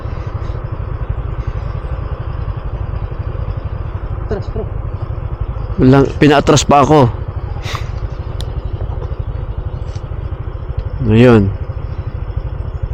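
A motorcycle idles nearby in Tacloban City with a low, steady engine rumble under everything, while people talk over it in short bursts.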